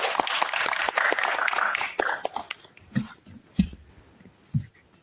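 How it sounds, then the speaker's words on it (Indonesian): Studio audience and hosts clap for two podcast guests, a dense burst of applause for about two seconds that quickly thins to a few scattered claps and soft knocks. "Ye, tepuk tangan dulu dong."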